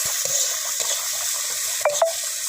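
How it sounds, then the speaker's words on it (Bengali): A spoon stirs chicken curry after cumin and chili paste go into the pot, with soft scraping and a low sizzle, then two sharp clinks of metal against the pan near the end. "জিরা মরিচ বাটা দিয়ে দেবো, ভালো করে নাড়িয়ে নেবো"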